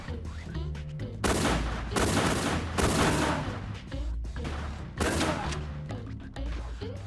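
In the video game Sabotain, NPCs open fire in bursts of loud gunshots separated by brief pauses, the shots rattling off one after another and dominating the scene.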